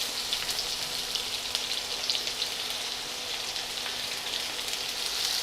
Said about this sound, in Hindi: कांदा लहसुन दो साथ साथ अच्छा तली गई इनमें।